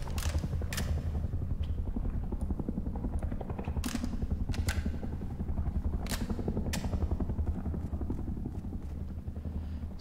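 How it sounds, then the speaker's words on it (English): A helicopter in the survival video game Rust flies close overhead, its rotor producing a loud, continuous, steady chopping thrum with occasional sharp clicks on top. "So, I hear chopper right over us."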